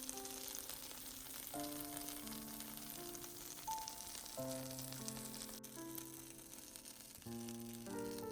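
Keto dosa frying thin and crisp on a pan, a steady soft sizzle running under louder background music throughout.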